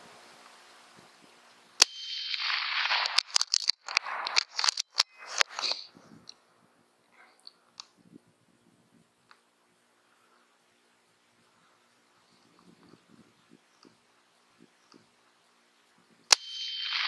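A rifle fires a loud crack while hunting, followed by a rapid cluster of sharp impacts and clatter for a few seconds, then quiet with faint scattered ticks before a second sharp shot near the end.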